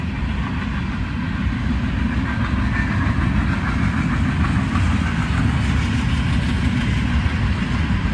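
Union Pacific mixed freight manifest cars rolling past in Cozad, Nebraska, a loud steady low rumble with faint rhythmic clatter and a locomotive engine hum running unbroken throughout, no voices.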